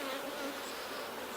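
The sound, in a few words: honeybees buzzing in an open hive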